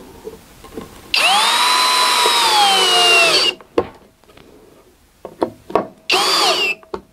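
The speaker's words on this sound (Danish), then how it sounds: "De andre skruer, dem klarer jeg. Så spændende er det ikke at se skruer blive skruet i." A power drill drives screws into a new workshop shelf, with a loud whirring run of about two seconds followed by clunks and knocks, then another short drill burst, all close up.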